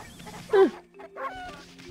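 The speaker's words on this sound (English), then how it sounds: "Let's feed some chickens." Chickens cluck in the Okami video game, with one clear call near the middle and a softer cluck later, heard alone over quiet game ambience.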